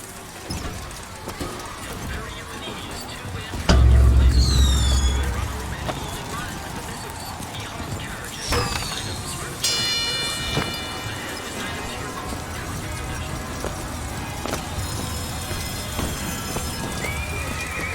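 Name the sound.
mechanical horse galloping and neighing in a video game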